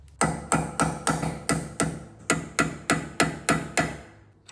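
A hammer striking a tiny chisel to unstake the 32 mm front axle nut on a first-generation Honda Fit, eleven sharp, evenly spaced metallic blows ringing close and loud with no talk.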